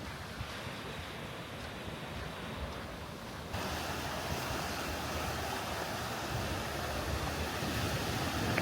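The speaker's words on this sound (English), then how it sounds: "It's a nice beach, to be fair." Gentle surf washes onto a quiet beach in St Lucia as a steady, soft hiss, mixed with wind blowing across the microphone.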